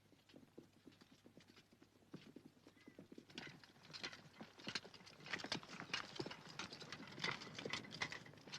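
Horse hooves clip-clop in a steady, uneven rhythm, growing louder and busier midway as the horses draw nearer, with an occasional whinny and faint background noise.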